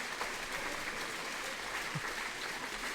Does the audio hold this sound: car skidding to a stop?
no